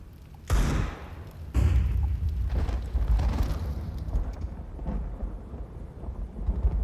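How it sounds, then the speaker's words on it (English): Thunder rumbles and crackles in a Counter-Strike match, with deep booming rolls swelling twice and then a sustained low rumble under the game's ambient noise. "That thunder crackling, man."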